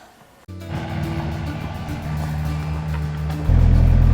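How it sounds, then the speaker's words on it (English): A tracked excavator fitted with ice studs and traction cleats drives over a snowy hill while building a road. Its engine sets in suddenly after a quiet start, then holds a steady, loud, low drone that grows louder near the end. "a monster truck came through here, also known as Riley with the excavator"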